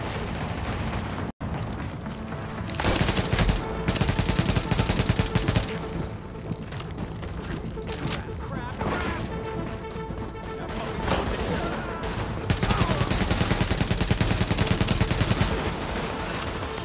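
Dense, loud bursts of automatic gunfire from The Division batter a player in cover, with volleys rolling almost continuously and sharp impacts throughout, under game noise.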